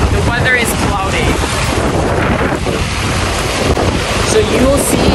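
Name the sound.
wind on a beach in Boracay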